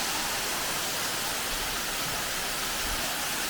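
A roadside waterfall near Lake Toxaway Nature Park, a steady, dense roar of rushing water heard close and continuous with no other sounds.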